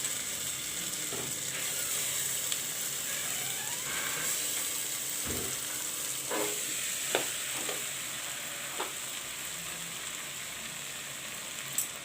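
Potatoes and soaked chana dal fry in a pan for a curry with soyabean, a steady close hiss of sizzling oil broken by a few light taps and scrapes of a stirring spoon.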